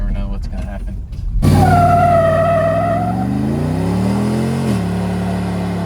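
A squarebody truck with an LS engine is power braked, its engine revving hard while the tires spin. A loud roar holds at a high pitch, then slides into a rising, whining tire-spin tone.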